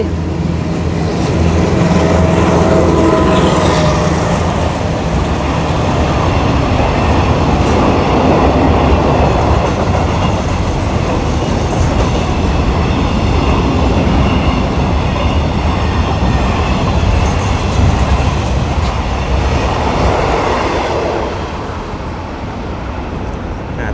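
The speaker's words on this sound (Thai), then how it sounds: "เรามาชมรถสินค้ากันอีกสักขบวนนะครับ" A freight train rumbles past close by at Sung Noen railway station, Thailand, a loud continuous roar of wheels and clattering wagons that barely changes, easing slightly as the last cars go by.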